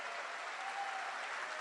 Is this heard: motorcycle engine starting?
no